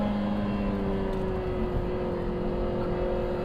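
A 2024 Lotus Emira with a four-cylinder engine runs at a steady, low hum, heard faintly and evenly throughout with a faint pitch shift partway.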